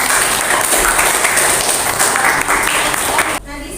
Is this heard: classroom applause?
yes